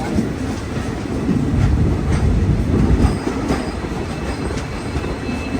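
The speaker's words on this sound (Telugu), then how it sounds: "ఇప్పుడే మన ట్రైన్ బొకారో స్టీల్ సిటీకి అయితే వచ్చింది" A superfast train arrives at Bokaro Steel City station, its loud, dense rumble of rolling wheels and carriages joined by thin squeals of braking wheels, with no talk over it.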